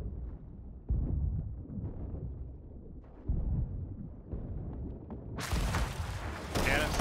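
Cannon fire in a pirate naval video game: several deep booming blasts at irregular intervals, growing louder toward the end, heard under game noise and shouted player chatter.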